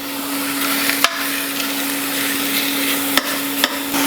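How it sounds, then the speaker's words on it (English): Pork butt browning in a large pot, a steady broadband sizzle with a constant hum beneath and a few sharp clanks of a utensil against the pot, no voices. "Now I'm going to brown up the pork butt in this large pot."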